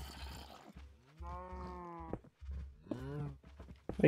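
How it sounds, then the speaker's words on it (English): Cows in the video game Minecraft give a few drawn-out, tonal moos in close succession, moderately loud with short gaps between calls and a brief rustle at the end. "Where do cows think you're going?"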